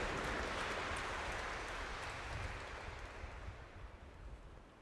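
A church congregation at a feast-day Mass applauds the archbishop, a dense wash of clapping that starts strong and slowly thins and fades toward the end.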